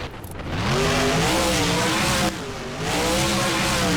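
A monster truck engine in the BeamNG video game revs hard and loud at close range for the whole stretch, holding a steady roar with a brief drop midway before climbing again.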